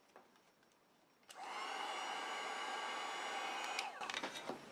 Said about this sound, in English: I'm going to apply heat to it.